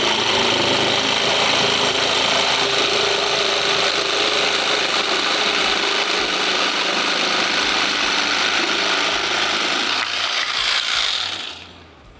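A loud, continuous power tool cutting chipboard whines and roars at close range for several seconds, then winds down and stops near the end.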